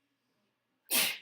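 A single sharp, close sneeze bursts out suddenly after a near-silent stretch in a classroom during a math lesson.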